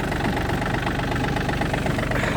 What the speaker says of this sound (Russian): Двигатель работает ровно, без каких-либо посторонних звуков.